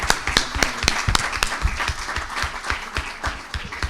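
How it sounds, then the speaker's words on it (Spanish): Audience applause for a professor at a conference session: loud, close clapping with distinct sharp hand claps over a dense background of many hands, sustained throughout. "Y un aplauso al profesor Ferrara."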